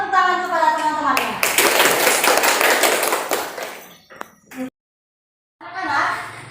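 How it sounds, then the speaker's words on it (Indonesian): Students in a classroom clapping their hands together in a burst of rapid, close applause lasting a few seconds, then fading into a brief silence, with a teacher's voice around it. "Berikan tepuk tangan kepada teman-temannya."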